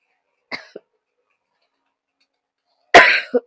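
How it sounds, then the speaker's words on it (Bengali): A person coughs, a short double cough early on followed by a louder, harsher cough near the end, close and isolated against silence. "কাশি আসতেছে"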